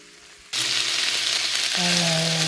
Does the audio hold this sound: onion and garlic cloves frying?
yes